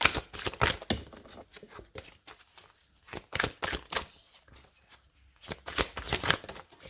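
Tarot cards being shuffled and laid out: three separate bursts of quick, crisp riffling and flicking, with short quiet gaps between them.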